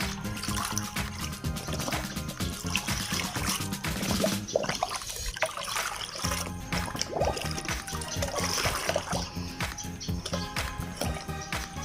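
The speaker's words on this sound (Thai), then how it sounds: "เสร็จแล้วเราก็มาคนส่วนผสมให้เข้ากันเลยค่ะ" Liquid fertilizer mixture being stirred for ornamental caladium plants, a continuous sloshing and trickling of water that is close and fairly loud, with faint bird chirps in the background.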